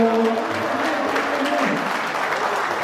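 An audience at a poetry recital in Riyadh gives steady, full applause, a dense wash of clapping with some voices beneath.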